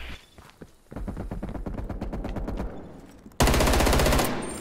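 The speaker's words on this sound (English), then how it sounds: "Oh god, that's a lot of bullets." Rapid automatic gunfire in a one-on-one video game gun fight: a fast, steady burst of shots lasting a couple of seconds, followed by a loud, sharp blast of noise near the end.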